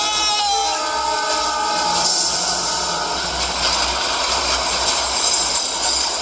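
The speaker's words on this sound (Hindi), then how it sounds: "ट्रेन आ रही है, ट्रैक से हट जा मेरे दोस्त!" A train rushes past as a dramatic effect in a spoken horror story, giving a loud, dense roar with a whistle-like tone at first and then steady rolling rumble throughout.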